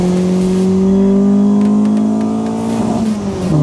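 A racecar engine revs hard and close, its strained tone holding high and steady before dipping slightly and climbing again, loud and with no voices.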